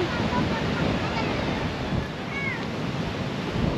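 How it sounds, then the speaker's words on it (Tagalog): Strong sea waves surge and wash continuously on a stormy, windy day at a shore with moored boats, a broad roaring hiss buffeted by wind on the microphone. "Grabe, ang lakas ng alon"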